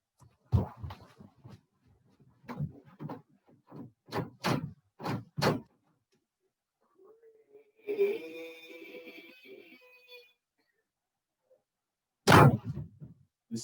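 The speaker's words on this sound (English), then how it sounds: "The sound of her door opening and closing, and the sound of footsteps coming into her house" A series of sharp knocks and taps like footsteps and a door handled, followed by a creaking drawn-out sound and a final heavy thud, as a house door opens and closes and footsteps come inside.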